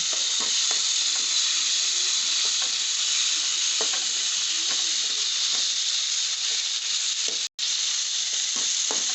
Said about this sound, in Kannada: ಸ್ವಲ್ಪ ಬಾಡಿಸ್ಕೊಳ್ತಾ ಇದ್ದೀವಿ